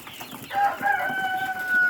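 Close, high-pitched chirping and peeping of three-day-old broiler chicks, a few overlapping cheeps in quick succession.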